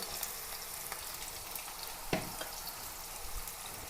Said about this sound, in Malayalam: ചട്ടി വെച്ചിട്ടുണ്ട്, എണ്ണയൊക്കെ ഒഴിച്ച് എണ്ണ കാഞ്ഞിട്ടുണ്ട്. കുറച്ച് സവാള ഇട്ട് കൊടുക്കാം